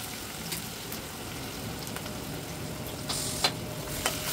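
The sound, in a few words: onion, garlic and cumin sizzling in hot oil for dal tadka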